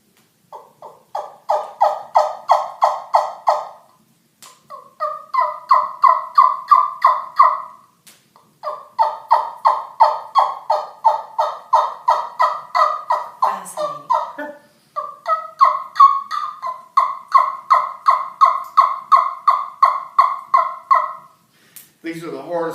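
Hand-operated three-piece glued turkey call played in long runs of rapid, evenly spaced yelping notes, loud and close, with short pauses between sequences and no talking.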